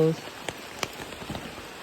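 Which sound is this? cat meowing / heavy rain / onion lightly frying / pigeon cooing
heavy rain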